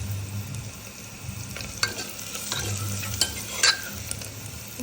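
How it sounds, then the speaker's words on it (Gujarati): Onions fry in oil in a pan for chana dal and onion sabji while a spoon stirs them, giving a steady sizzle broken by a few scraping strokes and light taps, close up. "તો મિત્રો તમે અહીંયા જોઈ શકો છો આપણી ડુંગળી સતળાઈ ગઈ છે।"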